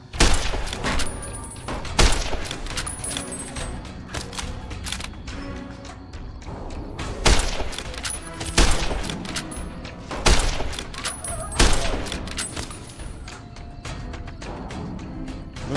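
Varmint rifle shots ring out in Fallout New Vegas amid a busy wasteland firefight, with sharp, loud cracks repeating irregularly every second or two over continuous background action.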